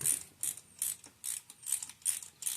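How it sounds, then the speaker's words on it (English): A Blue Point ratchet, a Snap-on brand tool, clicks in close, crisp bursts of rapid ratcheting, about six quick strokes in steady rhythm with short pauses between them, used on a Chevy Cruze 1.4L during a spark plug change. "I know my ratchet looks cheap, but trust me, it's a Blue Point"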